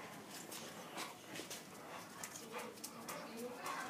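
A large female boxer dog whines and yelps in faint, scattered bursts amid background chatter and noise, with people talking nearby at a boxer kennel.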